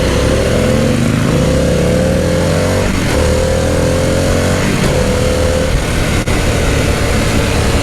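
A Harley-Davidson Pan America motorcycle engine drones steadily while being ridden, with rising and falling revs through several gear changes, loud and close with constant wind rush.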